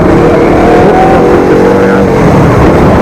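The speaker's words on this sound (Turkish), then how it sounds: "Ayrıca motorun aşırı tatlı bir sesi var böyle." Loud, continuous KTM Duke 250 motorcycle engine drone with rising and shifting pitch as the throttle is worked, heard up close with heavy wind-like rumble.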